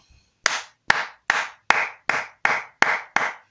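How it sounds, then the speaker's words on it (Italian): Slow, deliberate clapping by a single person or small group, eight sharp claps at an even pace, close and loud with no talk, sounding sarcastic rather than enthusiastic. "Questo è un applauso"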